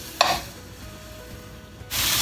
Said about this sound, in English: those chicken pieces should start sizzling as soon as we drop them in.